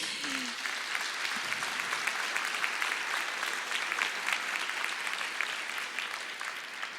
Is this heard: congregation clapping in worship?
yes